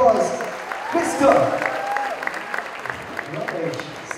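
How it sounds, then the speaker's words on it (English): Audience applause greets a guest at an edutainment show inauguration ceremony, moderately loud clapping mixed with crowd noise and talk over it. "ladies and gentlemen, huge round of applause"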